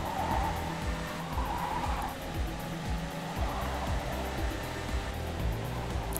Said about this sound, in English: So we're going to punch the accelerator, punch the turbos.